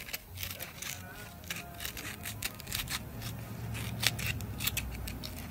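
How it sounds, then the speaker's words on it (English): Curved tin snips cutting through sheets of sandpaper, giving a steady run of crisp, close snipping and crunching strokes with no talk. "So I use the curved tin snips."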